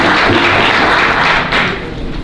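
A full room at a Black History celebration breaks into loud, continuous applause, many hands clapping in a dense, steady burst close by.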